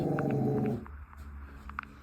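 A pet dog growls close by in a low, steady rumble that stops abruptly after under a second. Quiet room tone with faint clicks follows.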